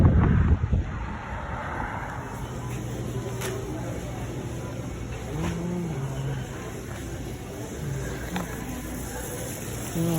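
Wind gusts buffet the microphone outdoors as a snowstorm approaches, a rough, blustery rumble rising and falling throughout, with traffic-like noise and a person speaking softly underneath.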